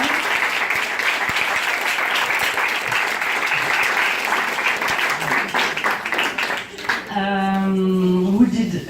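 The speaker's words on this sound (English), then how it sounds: "I would like to ask you for a big, big, big round of applause for Florence and Michel." Audience applause at an Alliance Française event in Ikeja, Lagos, marking World Women's Day: steady, dense clapping fills the room for about seven seconds, then fades as a sustained musical tone with harmonics comes in at the end.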